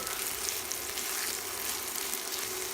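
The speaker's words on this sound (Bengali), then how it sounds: "পেঁয়াজ দিয়ে আরও কিছুক্ষণ নেড়েচেড়ে ভেজে নেব" Onions sizzle steadily in hot oil for a vegetable soup, a close, continuous frying hiss with faint stirring and no talking.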